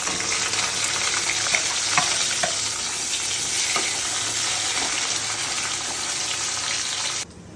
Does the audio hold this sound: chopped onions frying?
yes